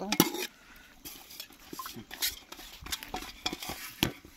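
Rice biryani being stirred in a pot over a wood fire outdoors, giving repeated scraping and clinking strokes of a utensil against the pot with a faint sizzle, moderately close and with no talk.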